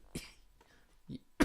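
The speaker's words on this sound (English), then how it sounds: "I shouldn't cough like that." Two short dry coughs from one person, the first near the start and a sharper, louder one at the end, separated by a brief quiet pause with faint breathing.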